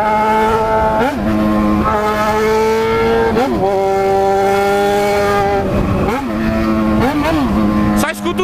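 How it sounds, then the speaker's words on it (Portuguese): A motorcycle engine roars through repeated rev climbs and drops, with exhaust pops and downshifts marked by sharp pitch dips roughly every second or two. It sounds loud and close, with a voice partly heard over the engine. "Só escuto os roncos, os pipocos do escape, as reduzidas"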